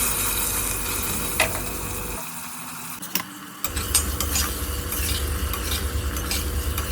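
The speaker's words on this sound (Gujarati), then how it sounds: "આ રીતે તેને ચમચા વડે ચલાવતા રહેવાનું છે અને 2 મિનિટ સુધી સાતળવાનું છે" A spoon stirs brinjal and potato curry as it sautés on a low flame, with a steady loud sizzle, scraping strokes and a brief quieter gap midway.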